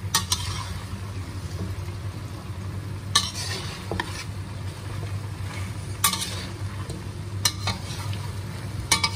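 A spoon stirs chicken feet adobo with shiitake mushrooms and sauce in a pot, soft sizzling under steady scraping, with a few sharp clinks against the pan.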